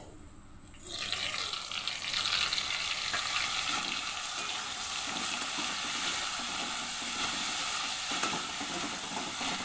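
A ground paste of onion, ginger, garlic, cumin and dried red chilli hits hot oil in a pan, giving a loud, steady sizzle and hiss that swells after the first second and keeps going evenly to the end, with no one talking.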